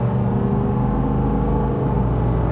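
A truck engine droning steadily as it rolls up toward highway speed, not at full throttle, with continuous low rumble and road noise close by, no talking.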